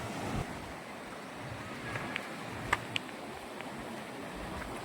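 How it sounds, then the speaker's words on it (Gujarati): Soft, continuous wash of sea surf on the shore with a faint roar of wind, fairly distant and steady, with a couple of small clicks near the middle. "તો આપણે પહોંચી ગયા છીએ દરિયા કિનારે"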